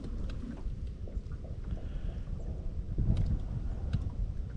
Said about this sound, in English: Wind trying to push us.